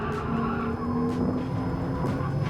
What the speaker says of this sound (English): You can hear the tires just squealing the whole time.